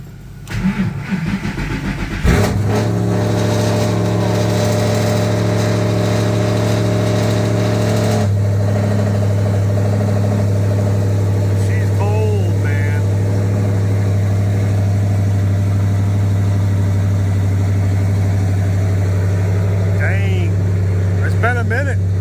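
A cammed Ford Mustang GT500 with a 3V engine cranks and fires up, then settles into a loud, steady, rumbling idle that continues to the end, with people talking briefly over it.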